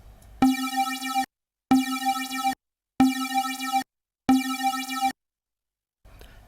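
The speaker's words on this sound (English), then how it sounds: "Then we'll add some detuning to those voices" Bright, buzzy synth notes repeat in four even bursts with short gaps, a wide, slightly detuned square-wave tone playing a looping arpeggio, clean and upfront.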